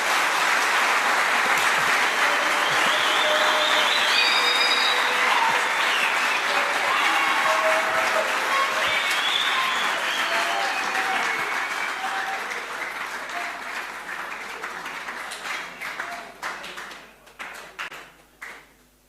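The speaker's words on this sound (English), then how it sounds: "Let's give him a clap." An audience at a boys' seminar breaks into sustained, dense applause that holds strong for several seconds and then thins into scattered claps before fading out, with no talking over it.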